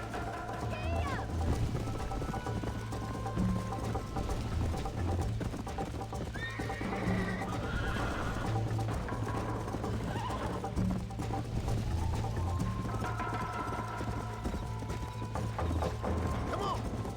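Horse hooves clip-clop at a gallop in the Western game Red Dead Redemption, with whinnies and neighs over a steady rhythmic pounding and a low background drone, continuous and close throughout.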